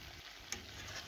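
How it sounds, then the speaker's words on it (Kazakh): Chicken wings and onion sizzle in hot oil as a spoon stirs them, a steady close hiss with one short scrape of the utensil. "Араластырып отырып, екі беті әбден қызарғанша қуырып аламыз."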